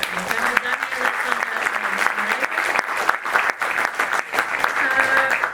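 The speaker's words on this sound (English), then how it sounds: "Please give a warm applause for our" Audience applause after a talk on AI at an event in Eindhoven, steady, fairly close clapping from a sizable crowd filling the whole stretch, with some voices underneath.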